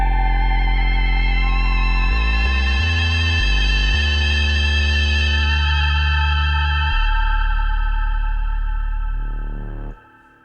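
A Yamaha MODX synthesizer plays a sustained, richly layered patch whose pitch shifts in stepped moves as the mod wheel bends it and adds reverb, loud and alone, before the note cuts off near the end.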